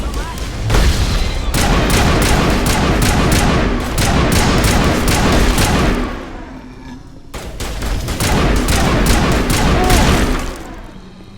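A dense stretch of rapid gunfire and explosive crashes during a Mass Effect firefight, loud and continuous with a short lull before another burst, with a voice calling out over it.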